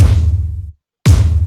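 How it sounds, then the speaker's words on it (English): Hard cinematic stomps hit in a remix beat, two heavy, booming low impacts separated by a brief moment of silence, each ringing out with a thick rumbling tail. "And yeah, the stomps that I was talking about,"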